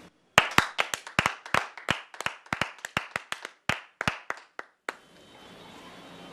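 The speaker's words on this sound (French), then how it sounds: "nous allons lui accorder un tonnerre d'applaudissements" A small audience gives brief applause: a string of distinct, sharp hand claps, close and loud, dense at first and thinning out before stopping, with quiet room noise left after.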